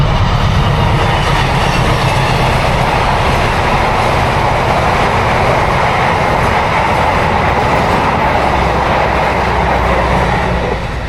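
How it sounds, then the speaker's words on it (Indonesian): A train rolls past close by, a loud sustained roar of rail cars with rhythmic wheel clatter and faint squeal running unbroken for the whole stretch, no talking. "ada kereta bentar"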